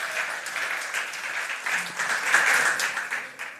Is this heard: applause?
yes